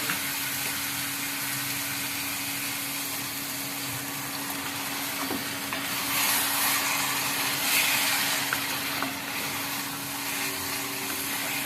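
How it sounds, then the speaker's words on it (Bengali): Spice paste for a Bengali fish curry fries steadily in a pan, giving a continuous, even sizzle and hiss with a faint low hum throughout, no voices. "মশলাটা একটু কষাচ্ছি, কষানো হয়ে গেলে একটু জল দিয়ে দেবো।"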